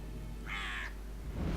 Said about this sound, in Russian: Какая умная птица все-таки.